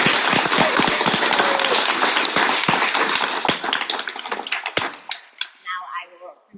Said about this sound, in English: Let's give one last really loud round of applause for everybody.